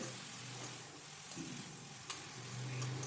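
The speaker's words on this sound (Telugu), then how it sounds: "ఇప్పుడు గోంగూర ఏదైతే కట్ చేసింది ఉందో అది ఇందులో వేసి కలుపుకోవాలండి" Gongura leaves and potatoes fry in a pan with a steady, moderately quiet sizzle, broken by a few light clicks and scrapes as they are stirred.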